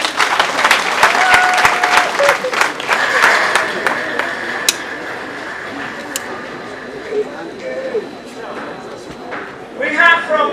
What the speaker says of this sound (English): Give a good clap to them.